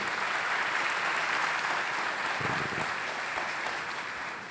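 A church congregation claps together during a bilingual worship sermon, steady dense applause filling the room, fairly loud and sustained, tapering slightly toward the end.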